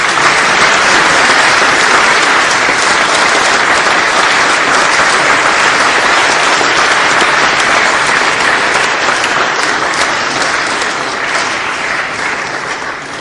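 Loud, sustained applause from a large audience closing a 2006 Arkansas lieutenant governor debate, dense and even throughout and tapering slightly toward the end.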